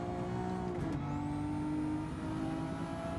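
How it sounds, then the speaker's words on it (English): Maserati MC20 engine revving in Gran Turismo 7 on a wet track in a Le Mans race, a steady loud engine drone that bends in pitch partway through as the wheels spin in 5th gear, no talk. "Oh, we had wheel spin there in 5th gear"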